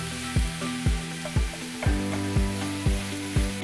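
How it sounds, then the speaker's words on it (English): Two pounds of ground beef fry in a pan with a steady sizzle, broken up by regular scraping and tapping strokes of a utensil roughly every half second. "next, we're gonna add in 2 pounds of ground beef."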